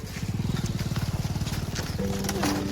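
A motorcycle engine putters close by in a fast, even rhythm while the bike is being turned around, and a brief voice joins near the end.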